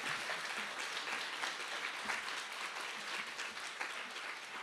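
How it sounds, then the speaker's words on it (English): Applause from a forum audience on fair rent commissions, a steady wash of many hands clapping, heard faint and distant throughout with no speech over it. "Can we give them a huge round of applause for the work that they do?"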